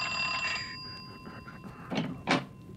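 Bell rings twice in a radio drama, two short bright rings near the end after a quieter stretch of room noise, with a muffled thump earlier and no speech.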